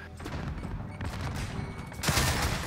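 Gunfire crackles in a Search and Destroy match of a multiplayer shooter game, a steady spread of shots that grows louder and denser near the end, with a voice faintly present.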